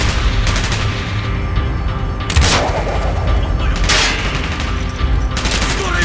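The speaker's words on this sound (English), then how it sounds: "Gunfire's drawing attention." Rapid bursts of gunfire from the PC game Call of Duty: Black Ops crackle continuously, with louder volleys near the middle and end, in a dense battle din without talk.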